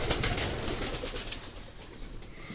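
Soft racing pigeon coos over a steady noisy outdoor background before a derby release, the birds' low murmuring calls fairly faint and continuous.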